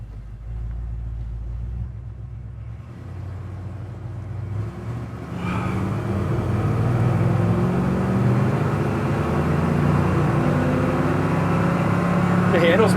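A 1970 Chevrolet El Camino engine heard from inside the cab: a low, steady rumble that swells louder about five seconds in as the car accelerates, then holds a strong, even drone to the end.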